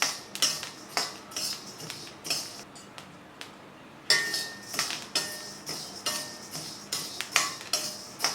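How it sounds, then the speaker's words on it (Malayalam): Rice dry roasting in a pan pops and crackles in a steady series of sharp, close ticks and clicks for several seconds. "ഇപ്പോൾ അരി നന്നായിട്ട് പൊട്ടി വരാൻ തുടങ്ങിയിട്ടുണ്ട്"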